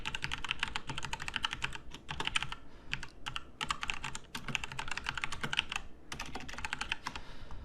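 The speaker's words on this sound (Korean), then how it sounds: "타이핑이 좀 빠르게 느껴질 수 있는데 사실 제가 타자가 엄청 빠른 게 아니니까 충분히 여러분 따라올 수 있습니다" Steady typing on a computer keyboard while coding, with rapid runs of clicking keystrokes broken by brief pauses, close and moderately quiet with no speech.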